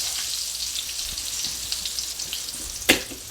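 Salmon croquettes fry in a pan over medium to medium-high heat, giving a steady, close hiss of crackling oil with fine pops throughout and one sharper spatter near the end.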